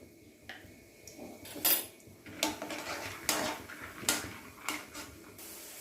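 Peanuts being roasted in a little oil in a wok-style pan on a gas stove, heard as a series of sharp metallic scrapes and clatters of a utensil against the pan over a faint sizzle, close by.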